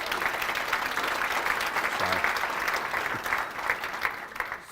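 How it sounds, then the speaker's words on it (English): A conference audience at a member case study session applauds steadily and loudly throughout, a dense sustained wash of clapping with a brief voice surfacing partway. "Can we give them a round of applause for that?"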